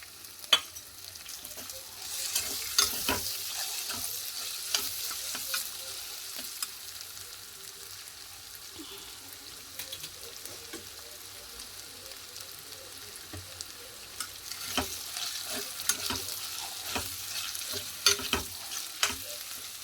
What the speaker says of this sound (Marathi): इथे मी मॅश करून घेतलेला बटाटा घातलेला आहे. त्याला आता चांगलं परतून घेऊया.